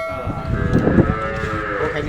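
Cows at the Satadhar cattle shelter moo loudly and close by during the Uttarayan festival, one long low call rising over a rough background of other animals.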